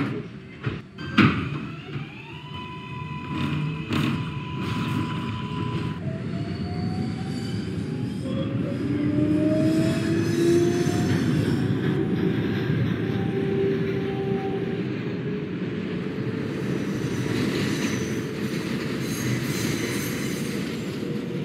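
An R142A subway train in the OpenBVE simulator game closes its doors with a chime, then pulls away with a rising motor whine, rumbling wheels and squealing over steady track noise.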